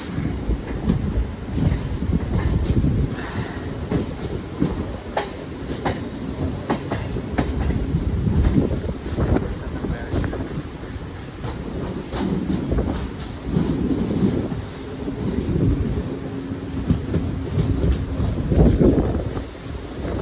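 Kondaveedu Express rolling along wet rails, a loud continuous rumble with repeated clickety-clack wheel beats and heavy wind buffeting the microphone throughout.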